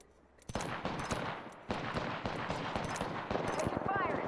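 Rapid bursts of gunfire crack through a firefight in the video game Apex Legends, sharp repeated shots starting after a brief quiet and continuing in clusters, loud and close, with voices calling out over the shooting.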